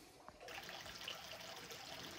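Rainwater trickles steadily into a storage tank, a soft continuous dribble and splash heard close and fairly quiet throughout, with no one talking.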